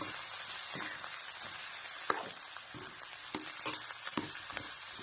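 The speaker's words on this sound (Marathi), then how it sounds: "हे बटाटा पण चांगला मस्त फ्राय करून घ्यायचा" Potatoes sizzle steadily as they fry in a pan for sabudana khichdi, with a few sharp clicks and scrapes from stirring breaking through the constant hiss.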